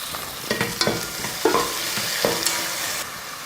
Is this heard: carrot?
yes